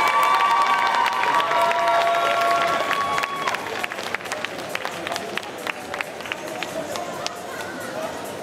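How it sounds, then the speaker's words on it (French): A crowd at a Sunday costume contest during a geek convention in Chalon-sur-Saône claps and cheers for the contestants. The applause is dense and steady, with scattered shouts, while an amplified announcer speaks over it. "Franchement, applaudissez-les."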